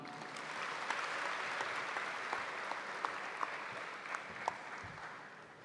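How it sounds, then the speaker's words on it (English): At a school morning prayer assembly, an audience applauds the reciters and music team with a soft, steady wash of clapping heard from some distance, a few sharper claps standing out near the end. "Please give a huge round of applause for the reciters and music team this morning."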